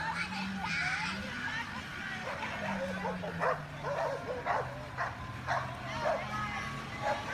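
Dog barking and yipping during an attack on people, several excited barks and whimpering yelps mixed with shouting and talking voices throughout.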